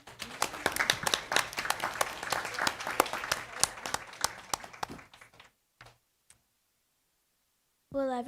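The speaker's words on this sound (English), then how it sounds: "Everyone give them a round of applause." Audience applause for students at a school district board meeting, steady dense clapping for about five seconds that thins out and stops, followed by silence and then a voice beginning to speak.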